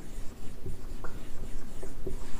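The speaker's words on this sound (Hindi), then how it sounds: "यहाँ लिखता हूँ" Chalk or marker writing on a classroom board in short scratchy taps and strokes, fairly close, with no talking.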